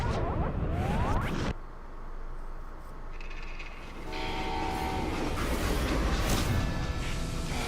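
A train in the video game Call of Juarez: Gunslinger rumbles and rattles along the tracks with rhythmic clacking and screeching metal, loud and close, with no voices.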